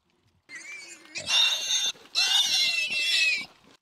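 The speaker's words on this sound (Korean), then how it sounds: "쉴 새 없이 꿀꿀대는 돼지들." Pigs on a Danish pig farm grunting and squealing in a continuous, loud chorus, with high-pitched squeals rising in bursts after a brief quieter start.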